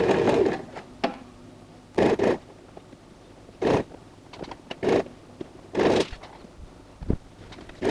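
Sewing machine stitching the base of a tote bag made from curtain fabric, running in several short bursts of about half a second each, separated by quiet pauses, close and clear with no talking.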